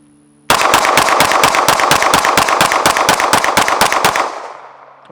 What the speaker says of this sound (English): we're gonna mag dump it, see if we get another malfunction